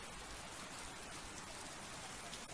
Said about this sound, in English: it's really heavy rain